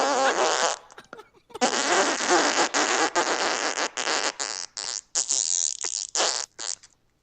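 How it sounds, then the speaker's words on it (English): Loud, drawn-out fart noises in a rapid series of bursts and sputters, close and dominant, with brief gaps between blasts. "Did you just fart, doctor?"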